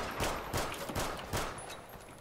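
Airsoft guns firing during an outdoor airsoft game, a quick string of sharp, snappy shots in an uneven rhythm, fairly close and distinct against steady background noise.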